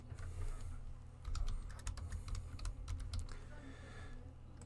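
Quiet, close computer keyboard typing while renaming a file, a quick irregular burst of key clicks over a low steady room hum, no voice.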